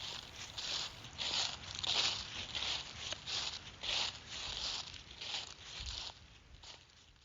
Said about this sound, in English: I like to listen to the sound of the leaves crunching under my feet